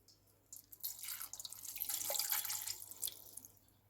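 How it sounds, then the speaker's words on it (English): Warm water poured into a container, a steady splashing stream that builds and runs for a few seconds, close and alone without speech. "Okay, that's the water. Warm. I'm going to add it in here now."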